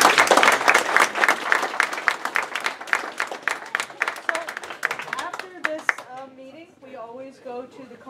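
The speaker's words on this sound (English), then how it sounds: "One last round of applause for all the presenters" A physics class audience gives the presenters a lively round of clapping that fades after about six seconds as voices start talking over the last of it.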